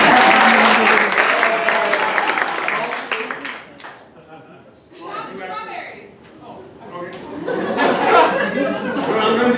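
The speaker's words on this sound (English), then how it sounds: "Let's give him a round of applause." Audience applause for a performer, loud and broadband at first, then thinning into crowd chatter and voices before swelling again near the end, with people talking throughout.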